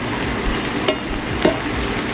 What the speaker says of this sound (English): now I'm stirring it up